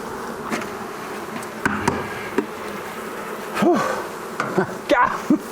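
A swarm of honey bees hums in a wooden shed, a dense close buzz with individual bees zipping past the microphone in rising and falling whines, plus a few knocks.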